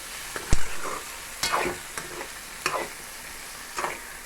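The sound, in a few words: stirring tomato capsicum curry in pan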